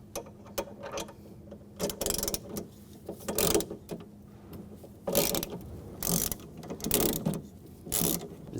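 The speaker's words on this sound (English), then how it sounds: "Loosen up that bolt." A ratchet with an E12 socket loosening a bolt on the window regulator of a 2006-2010 BMW 550i: quick bursts of close, clicking pawl strokes separated by short pauses.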